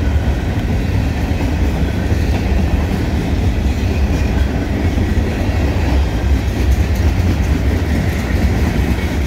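A train rumbles steadily past close by, loud and continuous, with rhythmic clatter of wheels on rails under a low roar.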